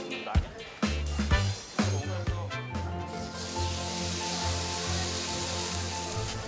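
Korean hanwoo beef sizzling on a restaurant grill, a steady bright hiss that settles in after a few sharp clatters and knocks in the opening seconds, moderately loud and close.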